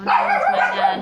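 A dog barks and yips briefly close by indoors, sharp loud bursts mixed with a person speaking over it.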